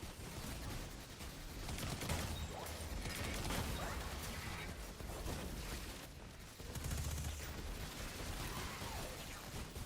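Dense, rapid bursts of video-game gunfire from a Destiny 2 firefight crackle continuously and fairly faintly, with brief gaps between volleys.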